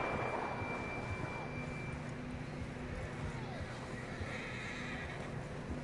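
A horse whinnies amid hoofbeats and dense outdoor game ambience in Red Dead Redemption 2, the neigh blended into a steady mix of sounds.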